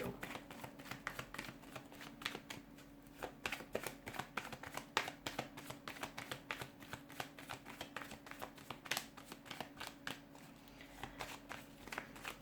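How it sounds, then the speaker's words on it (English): A deck of tarot cards shuffled by hand in a steady, close run of soft riffling flutters and taps that repeat for the whole stretch, fairly quiet with no speech over it. "let's give the cards a shuffle"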